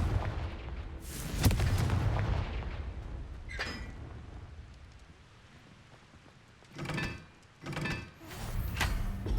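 Confringo fire-blast spell cast in the 2023 game Hogwarts Legacy: a loud booming burst followed by a few more explosive cracks and rumbles spread over several seconds, with low rumbling between them and no talk.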